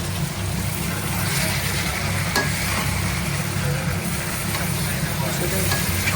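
Vegetables stir-fry in a hot pan for a Chinese-style basmati rice dish, giving a steady, close hiss of sizzling oil with faint scraping and stirring throughout.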